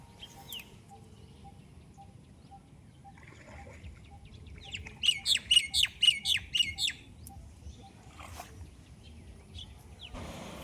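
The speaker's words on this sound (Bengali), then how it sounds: "আর আমাদের এই গ্রাম্য অঞ্চলে এই যে পাখির ডাকটা," Birds call in a rural Bengal village garden among bitter gourd vines, with a burst of loud squawking chirps in quick succession near the middle over a constant background of soft insect hum and faint distant calls.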